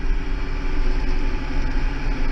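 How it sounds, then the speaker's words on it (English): A Massey Ferguson 6160 tractor with a six-cylinder Perkins engine, running at a steady idle with a loud, continuous low rumble close by, alone without voices. "It's quite a good little engine, I've got to admit. Perkins, I believe it, that's what it is."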